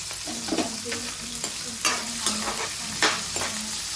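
Onions and green chillies fry in a pan with a continuous sizzle, broken by several sharp scraping stirs of a spatula at uneven intervals, close and moderately loud.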